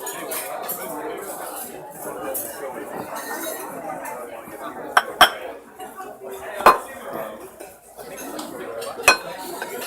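A big biscuit is chopped against a plate or board, with several sharp, separate clinks and knocks of a utensil standing out over a busy room of voices and clattering dishes.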